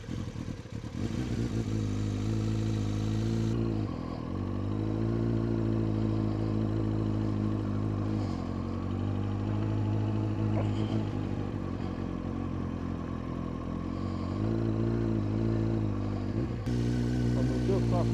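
A motorcycle creeping just past walking pace with the clutch slipped, its engine holding a steady mid-pitched putter with slight rises in revs, close to the rider while a rider talks over it throughout.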